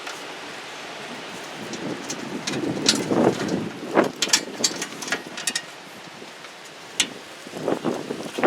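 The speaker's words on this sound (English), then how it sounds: "Windy today." Gusty outdoor wind buffets the microphone during repair work on a 1986 Craftsman snow blower, producing uneven rushing bursts and crackling thumps that rise and fall irregularly over a low background hiss.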